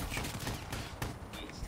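Argus shotgun fire in a Call of Duty 2v2 match: a few quick, sharp blasts over a dense background of in-game gunfire and noise, fairly faint overall.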